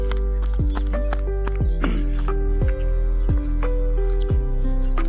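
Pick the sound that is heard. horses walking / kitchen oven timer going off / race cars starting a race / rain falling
horses walking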